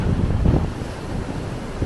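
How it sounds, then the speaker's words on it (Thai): Strong ocean waves crash close by, a loud, rough churning roar mixed with wind buffeting the microphone, heard alone without voices. "คลื่นแรงมาก"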